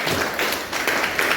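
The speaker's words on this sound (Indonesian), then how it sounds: "tepuk tangan buat kita semua" Applause from an audience at a school event at SMAN 1 Kupang, with dense, steady clapping that fills the whole moment, close and fairly loud, with no voices over it.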